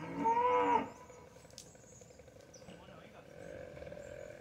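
A bull lets out one loud, drawn-out moo nearby as cattle are fed, followed by quieter background noise and faint voices.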